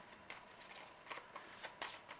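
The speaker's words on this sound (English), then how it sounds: "So now we will shuffle this deck." Cards from a deck for the Legendary Encounters: Alien deck-building board game are shuffled by hand, quiet close riffles and snaps coming in several short bursts against a faint background.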